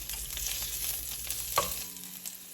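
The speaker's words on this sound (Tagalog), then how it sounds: "And then isaute natin yung garlic." Garlic sautéing in about a tablespoon of coconut oil for pork adobo sizzles steadily and fairly close, with stirring scrapes and one brief louder clink partway through; the sizzle fades slightly toward the end, and no one speaks.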